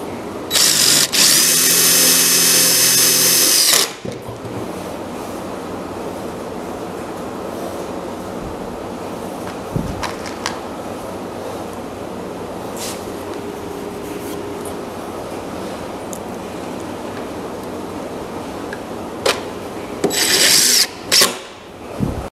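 A power drill drives half-inch self-tapping screws into a folding cedar grilling table: one loud, sustained whir at the start, a long quiet stretch, then a few short bursts near the end.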